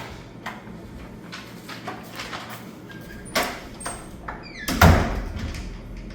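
A door pushed shut in a pottery studio, with a soft thud and short rattle near the end, set against quiet room noise and a few faint earlier knocks and clicks.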